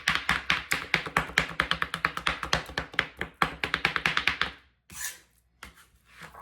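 Two knives chopping rough-cut shrimp on a board, a rapid, even run of close, sharp taps that pauses briefly, resumes, then thins to a few scattered strikes near the end.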